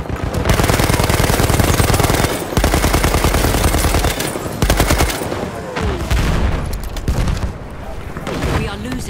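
Sustained light machine gun bursts in a video game firefight between houses, loud and near, with rapid rattling volleys and brief pauses, mixed with other gunfire and booms; voices speak over the shooting.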